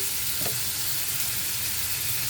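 Raw mango pieces go into a hot frying pan with mustard-seed tempering and sizzle steadily for the whole stretch, a close, even crackle with no talking.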